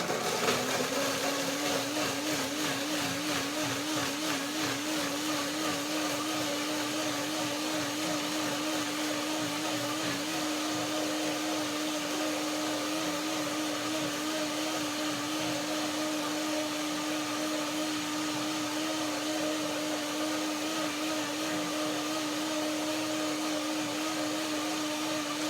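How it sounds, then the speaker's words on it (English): A blender whirs steadily for the whole stretch, loud and continuous, as it blends sesame seeds, cashews and dry dates with a small amount of water over the blades. No one speaks. "the blender can do a easier job with a small amount of water just over the blades"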